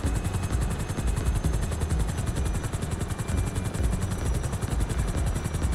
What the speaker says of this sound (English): It is faulty. The engine keeps on cutting out a couple times.